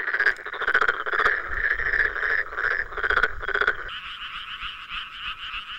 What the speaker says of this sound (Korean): 물을 대기 시작한 노는 개구리들의 청혼 무도 회장이 된다.